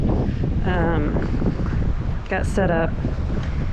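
Strong gusty wind buffets the microphone continuously at a lakeside campsite where tents are being pitched, roaring low and steady throughout while someone talks briefly over it.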